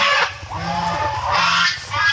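Chinese geese on a farm give a few loud, close honks in quick succession, with short gaps between the calls.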